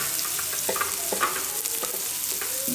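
Chopped onions and a potato mixture for batata vada sizzle steadily in a pan, with repeated scraping stirs of the spoon over the continuous close frying hiss.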